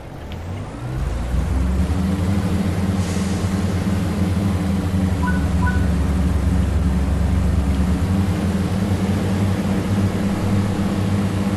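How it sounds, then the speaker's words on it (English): A Class 142 Pacer diesel railcar engine in Train Sim World 4 rumbles steadily with a low, throbbing drone, building after a brief start and holding a constant loud hum throughout. "it does sound a little husky in the engine, but it's a Pacer"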